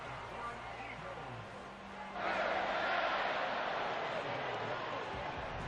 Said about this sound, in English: This crowd's getting raunchy.